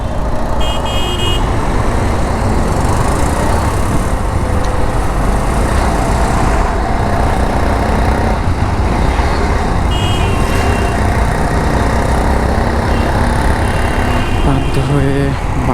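A long truck squeezes past on a narrow road, with a loud, steady roar of engine and traffic throughout and a few brief horn-like tones over the rumble.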